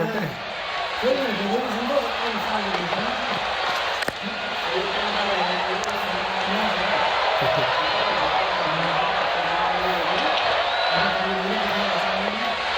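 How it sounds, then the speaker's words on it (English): Stadium crowd at an India vs New Zealand cricket match at Narendra Modi Stadium, Ahmedabad, a dense continuous roar of cheering with a commentator's voice running over it throughout. "The crowd is enjoying every bit of this action."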